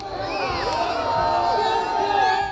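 A crowd cheers and shouts as people rush into an icy lake during a cold-weather plunge tradition, with excited voices and whoops layered together and a narrator talking over them.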